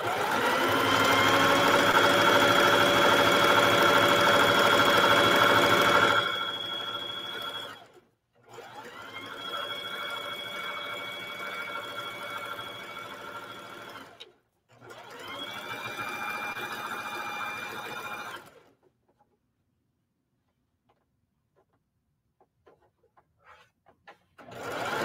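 A sewing machine stitches shower curtain fabric in three long runs, the first about six seconds and two shorter ones after brief stops, with a steady whirring hum and then silence at the end.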